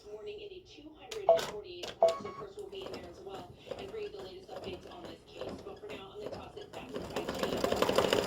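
A computerized embroidery machine stitches outlined lettering onto card stock, producing a rapid series of clicking, ratcheting needle strokes of moderate loudness that build into a denser, noisier run near the end.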